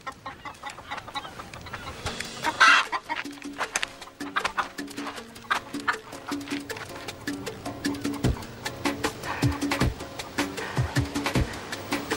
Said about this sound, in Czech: Vyplašil si mi slepice.